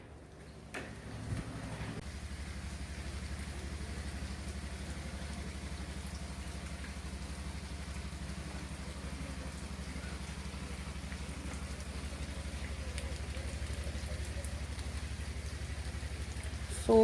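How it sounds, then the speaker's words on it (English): Steady heavy rain pours down continuously at Pentha Beach, Odisha, a dense even hiss with a faint low rumble beneath it, no voices. "So much rain."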